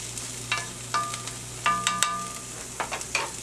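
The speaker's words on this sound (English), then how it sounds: "Let that saute for a little bit." Diced sweet onion sauteing in oil in a pan, a soft sizzle broken by several scraping stir strokes and light clinks, close and fairly quiet, no talk.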